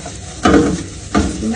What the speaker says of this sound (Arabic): الوصفه بتاعتي هنزل بالبصل هنا